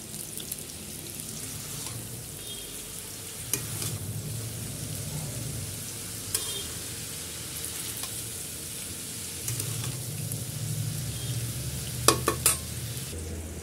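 Snake gourd and onion sizzle steadily in a pan, the constant frying hiss broken by occasional stirring scrapes and clinks close by.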